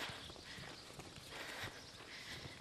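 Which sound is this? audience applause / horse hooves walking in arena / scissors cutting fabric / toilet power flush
horse hooves walking in arena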